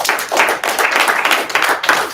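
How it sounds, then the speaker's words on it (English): A brief burst of close, crisp hand clapping from a small group congratulating people at a meeting, uneven and loud over about two seconds. "Round of applause for them."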